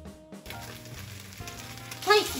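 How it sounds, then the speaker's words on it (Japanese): Gyoza steaming under a lid in a pan with water added, a soft steady sizzle and hiss with faint clicks, swelling louder near the end. "餃子を蒸し焼きにしてあげます。"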